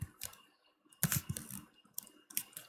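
Bursts of keyboard typing on a computer while setting up a camera primitive entity, with clustered key clicks in short runs separated by brief pauses, fairly close and moderately quiet, with no talking.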